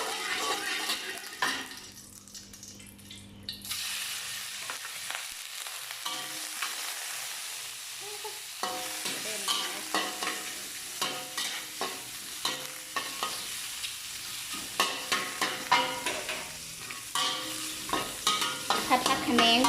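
Vegetables are stir-fried in a pan with some water, a steady wet sizzle broken by repeated rhythmic scraping strokes of a spatula, growing busier in the second half, with no clear talk.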